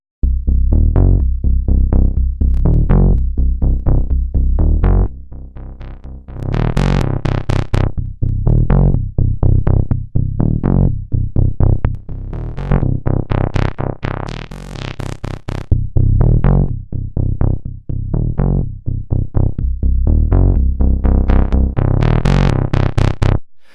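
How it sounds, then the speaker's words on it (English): A loud, gritty bass loop with a raspy, distorted edge from Ableton's Vinyl Distortion plugin, repeating in steady rhythmic pulses with crackly high-end bursts, no voices. "we're going to use Ableton's vinyl distortion plugin"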